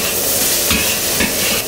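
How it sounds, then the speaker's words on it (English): Pineapple fried rice being stir-fried in a wok over high heat: a loud, continuous, close sizzle with scraping stir strokes that rise briefly twice. "That is the last stage of stir frying. You can hear the sound."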